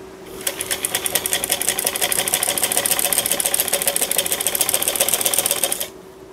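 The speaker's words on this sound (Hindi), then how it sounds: "और ये अब मैं यहाँ इसके ऊपर से" A sewing machine stitching across pleats on a kurti, a fast, even rattling run of needle strokes for about five seconds, close and loud, then stopping abruptly.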